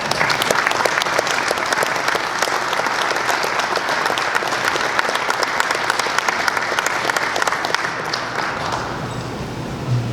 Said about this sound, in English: Let's please give them a round of applause.